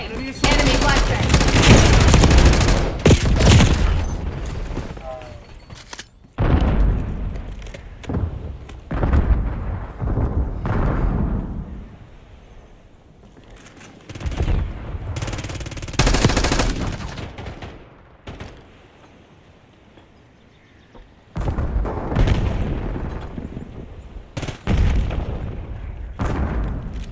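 Video game combat with grenade and flashbang explosions amid heavy gunfire: loud bursts of rapid shots and booming blasts come in several clusters separated by quieter gaps, close and forceful.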